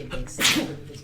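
A single sharp, close sneeze bursts out in the middle of a quiet moment, brief and loud against faint background noise.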